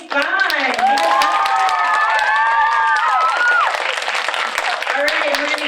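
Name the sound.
audience applause at poetry slam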